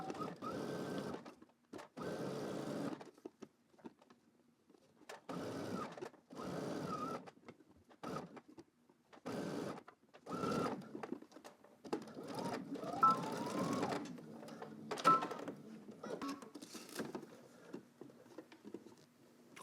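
A sewing machine stitches the seams of a knit polo shirt in repeated short bursts, starting and stopping every second or two, with quiet pauses between the runs of fast mechanical chatter.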